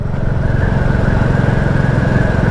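Royal Enfield Classic 350 single-cylinder motorcycle being ridden on a road in the Yorkshire Dales, its engine a loud, steady, close thumping drone with a rapid even pulse throughout, no voices.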